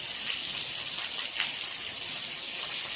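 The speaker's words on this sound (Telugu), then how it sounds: "ఇప్పుడు గీన్నే గింత వాగు పోతుంది" Rainwater from a cyclone downpour rushing as a flood stream through a village, a steady broadband gushing roar, constant and fairly loud, with no voices.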